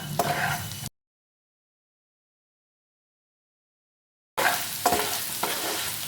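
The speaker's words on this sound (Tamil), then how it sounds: "மசாலா போட்டு நல்லா கிளறி விட்டாச்சு." A spoon stirs ground masala into baby potatoes frying in a pan, giving close scraping and sizzling. Two short bursts of it are separated by a long stretch of silence.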